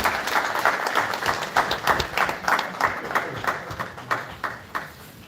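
Audience applause at an awards ceremony for a democracy and peace prize, a steady patter of many hands clapping with uneven bursts, moderately close and sustained for several seconds.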